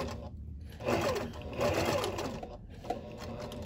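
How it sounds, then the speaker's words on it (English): A sewing machine stitches through a quilted placemat, its motor whirring in short bursts with brief pauses between runs, close and steady. "Let's go back under the machine and I'll finish the stitching."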